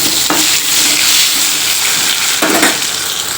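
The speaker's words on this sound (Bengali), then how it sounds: "এখানে শুকনো লঙ্কা সর্ষে ফোড়ন দিয়ে দিলাম" Dried red chillies and mustard seeds tempering in hot oil, a steady loud sizzle and hiss close up, with two brief rustling swells where the pan is stirred.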